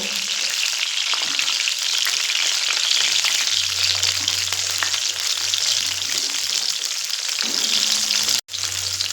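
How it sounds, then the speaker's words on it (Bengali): Cut potatoes frying in oil in a pan on low flame, a steady close sizzle and crackle running without pause, with no talk. "এই একই তেলের মধ্যে যে আলুগুলো কেটে রেখেছি আলুগুলো ভেজে নেব"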